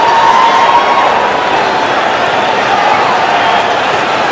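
Cricket stadium crowd roaring after a six, a loud, continuous wash of cheering voices from a large distant audience.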